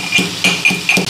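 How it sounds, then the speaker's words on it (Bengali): Ginger crushed in four sharp, evenly spaced pounding thuds, close and fairly loud, with no talking. "আদাটা একটু ছেঁচা দিয়ে দিই"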